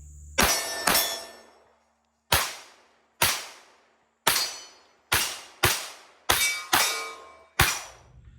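A Bul SAS Tac 4.25 9mm pistol, custom V12 ported, fired about eleven times in uneven pairs and singles, each shot a sharp, loud crack with a short ringing decay, outdoors with no talking.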